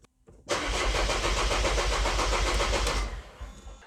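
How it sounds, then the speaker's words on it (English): Mercedes W210 E220 engine cranking over without catching, a loud, steady rapid starter-motor chugging that runs about two and a half seconds, then cuts off and fades. "I'm going to crank the engine"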